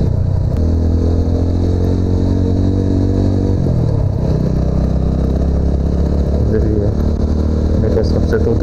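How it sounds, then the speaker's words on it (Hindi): A TVS Apache RTR 200 motorcycle exhaust rumbles loud and steady while riding through a village, with a brief shift in engine tone partway through and no talk over it. "आवाज़ सुना एग्जॉस्ट की, क्या मस्त आ रही है।"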